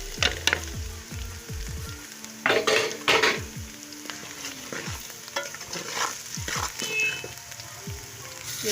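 Spices and softened onions sizzle in a pan as a spoon stirs and scrapes with sharp metallic clanks against the sides, the frying hiss continuing between strokes with no one talking.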